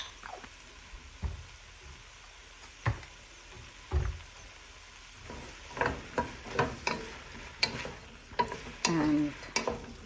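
Okra cooks desi style in a pan with a drop of oil and salt while a spatula stirs it. Sparse, close scraping strokes come at first, then quicker clicks and scrapes over a soft sizzle, with no talking.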